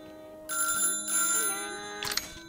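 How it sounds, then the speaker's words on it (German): A telephone rings in the factory game Little Big Workshop, two bursts of bright electronic ringing separated by a short gap, followed by a quick chiming blip. "So, jetzt gehen wir ans Telefon."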